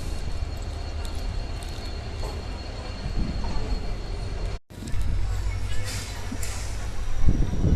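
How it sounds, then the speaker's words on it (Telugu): A passenger train starts moving out of Godhaneshwar station in Gujarat, with rumbling wheels, faint squeals and clanks heard from inside the coach, and a brief dropout midway. "దిగి మనం పక్క కోచ్లోకి వెళ్దాం అనుకునేసరికి ఇది మళ్ళీ ట్రైన్ స్టార్ట్ చేసాడు."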